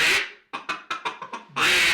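A voodoo duck call is blown in a crisp, close series of about six short quacking notes, loud and sharp, with a longer rasping note at the start and end.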